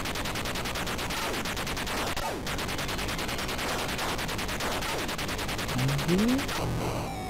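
Rapid, continuous electronic shooting bursts from the Atari 2600 game Snoopy and the Red Baron (1983), a dense buzzing chatter with steady loudness throughout, joined near the end by a short rising tone, no voices.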